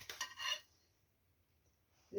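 Lavash flatbread lifted off a frying pan gives a brief metallic scrape and clatter of utensil on pan, then near silence before another short clink at the end.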